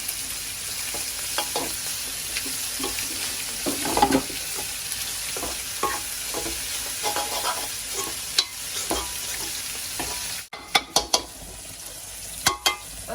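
Food with salt being stirred and mixed in a frying pan, a continuous close sizzle with intermittent utensil scrapes and taps, a few sharper knocks toward the end, no talking.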